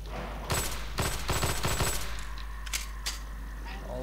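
Pistol shots in Half-Life 2 ring out in a quick cluster of sharp cracks, several rapid close reports followed by a couple of fainter shots, over a low steady game hum.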